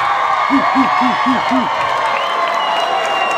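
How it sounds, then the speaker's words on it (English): An audience at a high school fashion show claps and cheers in a steady wash of crowd noise, with a run of five rhythmic whoops near the start and talking over it. "everyone give yourself a round of applause"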